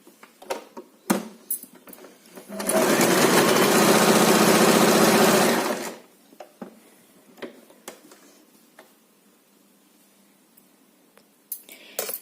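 A sewing machine runs in one steady burst of about three seconds, stitching fabric strips together for a bedspread made from old clothes, with light handling clicks and taps before and after.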